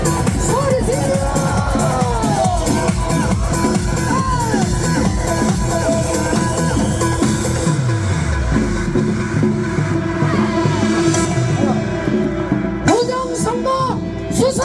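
Protesters at a March 2023 election-fraud rally near Jonggak Station shouting and cheering together in a dense, continuous roar, individual yells and voices rising out of the mass before the noise thins slightly at the end.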